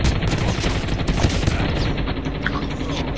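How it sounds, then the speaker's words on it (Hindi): Rapid bursts of gunfire from Call of Duty Mobile squad gameplay, with a helicopter shooting from above, come as dense overlapping volleys that crackle loudly and continuously throughout. "गोलियां पड़ रही है, वो ऊपर से मार रहा है, हेलीकॉप्टर मार रहा है"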